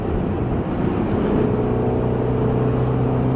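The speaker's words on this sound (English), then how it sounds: "Oh, wow, you got exhaust burble. Hear that?" 2020 Range Rover Sport SVR exhaust, a loud, continuous low rumble whose deep burbling tone settles into a steadier drone partway through, heard from inside the cabin without talk.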